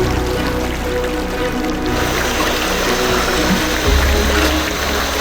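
A forest stream below the Mentayong waterfall in the Kalimantan jungle rushes steadily, a dense, continuous wash of flowing water with no voices.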